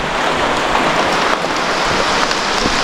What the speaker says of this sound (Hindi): काफ़ी ज़ोर से बारिश होना स्टार्ट हो गया है